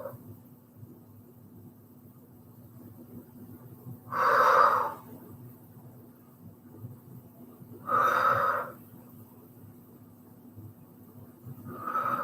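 Breath pushed out hard during an exercise routine, three strong, noisy exhales about four seconds apart over a quiet background hum.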